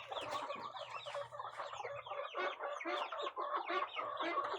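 Week-old black Muscovy duckling chicks peep and chirp continuously in a dense, overlapping chorus of high calls, close by, with a low hum underneath during the first half.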